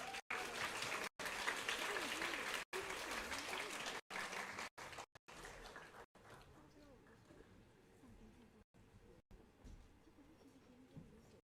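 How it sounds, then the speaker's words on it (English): Audience at an SDGs conference applauds to welcome a student team, a broad wash of clapping that is louder at first and thins out later, repeatedly broken by brief dropouts, with murmuring voices beneath. "Please welcome the team with a big round of applause."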